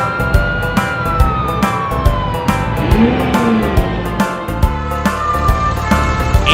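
A police car siren sweeps in long rising and falling tones, loud and near, mixed with sharp repeated percussive hits and vehicle rumble.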